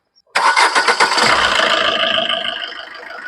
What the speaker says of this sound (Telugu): ఇంజన్ సౌండ్ మనం. Diesel vehicle